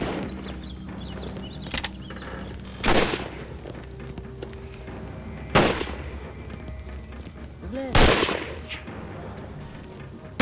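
Three sharp gunshots in the Xbox 360 game Shellshock 2: Blood Trails ring out at irregular intervals over a steady background hum, each loud and abrupt, with a few fainter clicks between.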